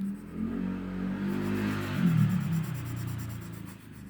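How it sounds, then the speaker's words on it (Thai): A motorcycle passes by outside, its engine rising to a broad rumbling swell and fading away over a few seconds, heard from a distance with no talking. "เสียงมอเตอร์ไซค์ผ่าน"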